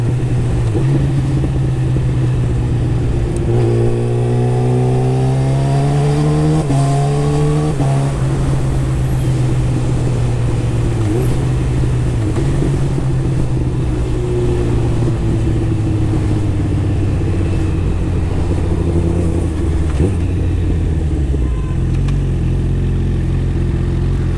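A motorcycle fitted with a full decat exhaust and a quickshifter, heard on the ride with a loud, close engine that climbs through quick rising revs and shifts, then settles into a steady drone.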